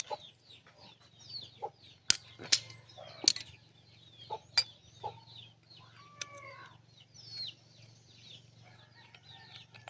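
Small chicks and chickens cluck and peep in short, scattered calls over a steady low hum, with a few sharp knocks in between.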